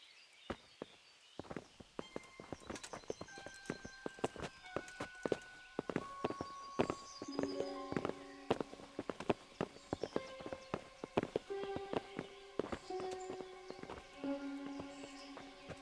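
Horses' hooves clip-clop at a walking pace on hard ground in the medieval video game Kingdom Come: Deliverance, irregular thudding steps mixed with sustained musical tones, fairly quiet overall.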